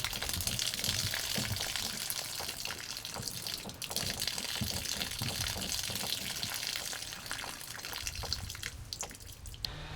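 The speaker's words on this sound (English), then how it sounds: "the low point drains are gravity draining all of that antifreeze out of your lines" Pink antifreeze drains by gravity out of the low point drains of a camper or RV during winterizing, making a steady gushing, splashing pour with small dripping spatters, loud and close, with no voices.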